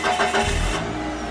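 A car engine cranking and catching close by, a brief starter churn that settles into a steady running hum, with no voices over it.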